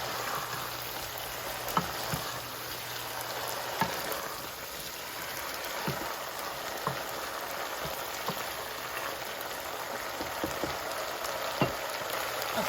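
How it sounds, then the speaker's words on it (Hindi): Mash dal sizzling and frying in a pan, a steady continuous crackle with occasional soft taps from stirring, close and moderately loud with no talking. "और इसी तरह हम इसको भूनते रहेंगे।"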